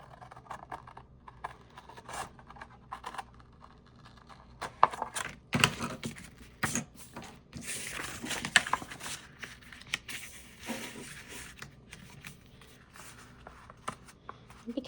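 Paper being trimmed for a handmade junk journal folio, with scattered crisp snips and rustling handling noises in irregular bursts at close range, no voice over them.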